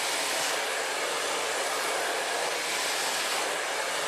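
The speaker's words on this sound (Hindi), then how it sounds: "आप ब्रश के साथ ड्रायर को बिल्कुल खींच के करना है।" A hair dryer blows a steady, loud broadband roar while curly hair is pulled straight through a brush, the airflow unbroken from start to finish with no talk over it.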